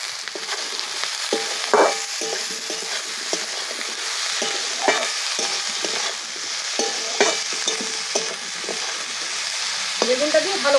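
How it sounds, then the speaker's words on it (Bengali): Cut eggplant fries in a pan with potatoes and onion, giving a continuous close sizzle broken by frequent clattering stirs and scrapes, and a faint voice near the end. "বেগুনটা দিয়ে ভালো করে ভেজে নেব।"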